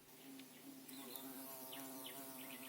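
Bees buzz close around a garden nest box, a continuous droning hum with shifting pitch as insects hover and pass, no voices.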